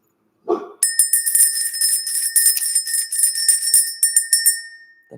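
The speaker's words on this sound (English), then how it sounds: "Let's go ahead and ring the bell." A struck bell rung to clear energy at the start of a spiritual reading rings out loud and sustained with bright shimmering overtones for about four seconds before fading, alone with no talk.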